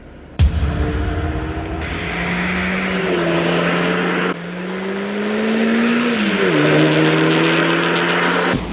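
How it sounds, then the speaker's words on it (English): A Renault Megane RS 280 Cup with EDC gearbox revs hard on a twisty B road in sport mode, engine note rising through gears with sharp drops at each shift, loud and close from inside the cabin. "found myself a nice twisty B road to thrash the Megane"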